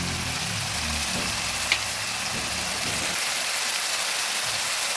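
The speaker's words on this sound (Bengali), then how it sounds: "ভালোভাবে নেড়ে ভেজে নিচ্ছি।" Chili and turmeric powder spices sizzle in hot oil as they are stirred and fried, a steady close crackling hiss with one brief clink midway.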